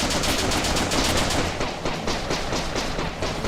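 Rapid automatic gunfire in the 2014 Japanese first-person shooter The Legend of Alfur, loud dense bursts of shots hammering continuously for several seconds.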